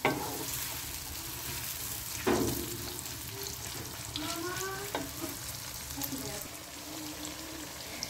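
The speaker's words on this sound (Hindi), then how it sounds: "प्याज़ों को हम पहले फ्राई कर लेंगे" Onions frying in a pan for a spiced potato dish, a steady close sizzle with occasional stirring clinks and scrapes.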